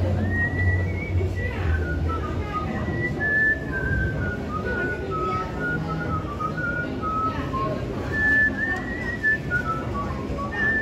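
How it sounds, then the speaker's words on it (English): A whistling oyster exhibit at the Guinness Storehouse in Dublin plays a high, wavering whistle in a meandering melody over a busy background of crowd noise and murmuring voices. "It's a whistling oyster?"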